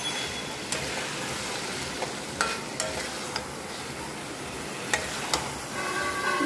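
Potatoes with poppy seeds are stirred in a pan, a soft frying sizzle underneath a handful of spaced sharp clinks and scrapes from the spoon against the pan.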